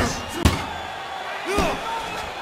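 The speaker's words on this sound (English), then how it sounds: "Ali connects with a powerful haymaker that lands flush." A punch lands with a sharp slam in a Muhammad Ali boxing video game on PS3, one loud impact followed by a softer thud, over continuous commentary and crowd noise.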